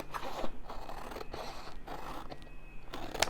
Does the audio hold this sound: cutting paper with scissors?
yes